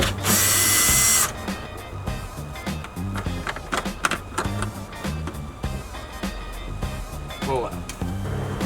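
A power drill backs out the 7mm bolts holding the factory radio in a Dodge Ram dashboard, with a loud, close whirring burst of about a second at the start, followed by a busy run of clicks, rattles and handling noises.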